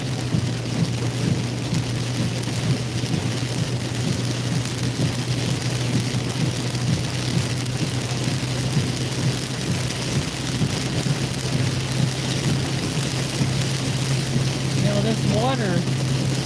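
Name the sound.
heavy rain coming down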